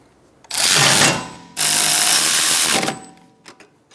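A brake caliper bolt on a 2013-2022 Buick Encore is tightened with a 10 mm tool, heard as two loud, close whirring bursts of about half a second and a second and a half, followed by a few faint clicks.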